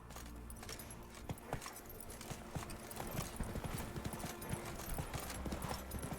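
A horse's hooves clip-clop at a steady trot in The Witcher 3, a close, rhythmic stream of hoof beats over ambient game sound, with some jingling of tack.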